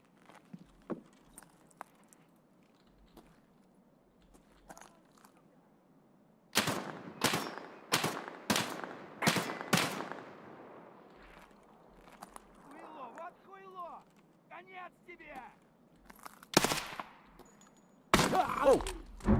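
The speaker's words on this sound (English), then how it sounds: "I have a feeling he's shooting with the mounted gun right now." Mounted gun firing in Escape from Tarkov, heard as a series of sharp, loud bursts spaced a second or so apart, with a final heavy burst at the end and scattered faint background sounds between.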